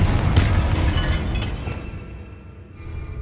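Confringo blasting spell explosion in Hogwarts Legacy, a sudden loud boom with a shattering burst near a sarcophagus and altar, followed by a decaying rumble and debris.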